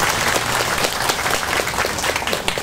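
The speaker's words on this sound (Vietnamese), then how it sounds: "Và xin quý vị đồng cho một tràng pháo tay." Loud, dense applause from attendees at a Buddhist Vesak celebration at a temple in Santa Ana, close and continuous throughout.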